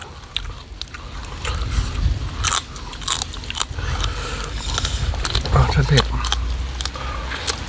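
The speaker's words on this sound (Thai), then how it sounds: "กินกรอบเลยค่ะ กรอบปูกรอบ" Crunchy chewing and biting of crab in Thai-Lao papaya salad with fermented fish sauce, close bites and crackles repeating over several seconds beneath steady background noise, with voices talking at times.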